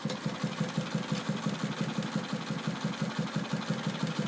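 A sewing machine, partly hand-cranked, stitches quilt patches with organza, making a steady, fast mechanical chugging in an even rhythm that runs without a break at moderate loudness, with no voices.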